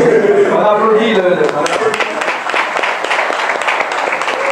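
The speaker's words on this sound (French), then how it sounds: "On applaudit le..." An audience at a deliverance seminar in Haiti claps steadily, a dense patter of many hands that stays fairly even throughout, with voices mixed into the applause.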